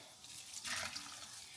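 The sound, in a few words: cold tap water pouring over noodles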